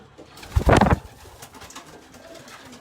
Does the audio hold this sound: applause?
no